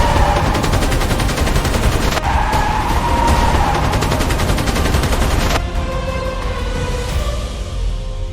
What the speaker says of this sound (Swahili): Magari 5 ya polisi yalikuwa nyuma yao yakifyatua risasi.